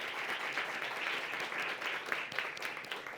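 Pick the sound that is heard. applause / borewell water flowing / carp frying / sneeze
applause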